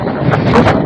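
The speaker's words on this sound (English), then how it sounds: "if you've been out in the wind all day like today" Strong outdoor wind buffets the microphone in a steady, loud roar with a few gusty swells, heard alone with no talking.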